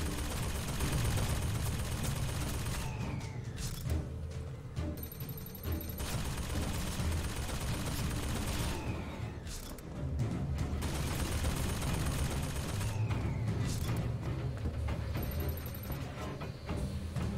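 Gunfire in Bioshock Infinite: dense bursts of shots and rapid automatic fire run steadily and loud through the whole stretch, with brief dips around the middle, no talking over it.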